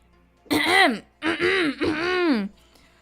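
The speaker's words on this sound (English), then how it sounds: "I know you're aggressively clearing your throat my way." Three forceful, voiced throat-clearing bursts come in quick succession, close and loud, each a harsh rasping growl.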